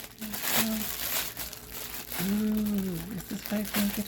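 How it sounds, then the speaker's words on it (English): Plastic packaging from a goth clothing and accessories mystery bag crinkles in close, rustling bursts as it is opened, with a voice talking over it. "Sorry for the crinkles."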